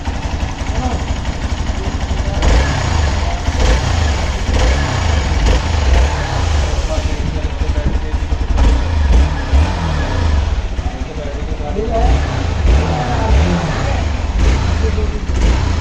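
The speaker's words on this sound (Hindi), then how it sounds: "इंजन नॉइस सुन लो।" An Xpulse 200 motorcycle engine runs continuously at close range with a throbbing low rumble, rising briefly in pitch at a few points, while someone talks over it.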